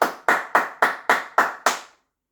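Seven sharp hand claps in a steady, even rhythm, loud and close, each with a short decaying tail, ending in silence.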